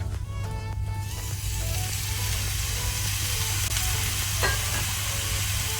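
Okra pieces hit hot oil with onions in a pan for Andhra-style bhindi pulusu, setting off a loud, steady sizzle and crackle that swells after the first second and keeps frying evenly, with occasional stirring scrapes.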